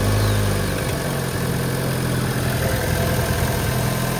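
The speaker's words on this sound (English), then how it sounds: "The engine sounds really good." A Vauxhall Astra 1.4 turbo idles just after start-up, slightly rough with a suspected misfire. It makes a steady, close, low engine hum with a constant vibration and no talk over it.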